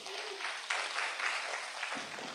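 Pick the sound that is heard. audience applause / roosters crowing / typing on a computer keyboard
audience applause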